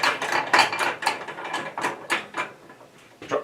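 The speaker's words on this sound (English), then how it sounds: "I've got the machine unplugged again, so I'll take my tension off" A SABRE bandsaw has its blade tension released, giving a run of close clicking ratchet sounds in uneven bursts.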